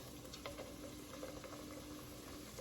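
Homemade potato chip slices sizzle in hot frying oil, a very faint, steady crackling hiss with scattered small pops, heard alone without talking.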